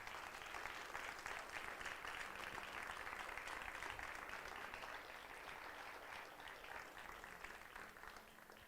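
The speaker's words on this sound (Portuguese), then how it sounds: "Aplauda o Senhor, vamos orar." A church congregation applauding together during a Sunday worship service, a steady continuous wash of clapping with no speech, heard at a distance and fairly faint.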